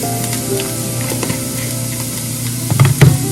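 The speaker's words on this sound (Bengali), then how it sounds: "গাজরটা যেহেতু গ্রেট করা আছে ভাজতে তো খুব একটা টাইম লাগবে না" Grated carrot fries in a pan with a steady, close sizzle, and a few clattering knocks of a spatula stirring near the end.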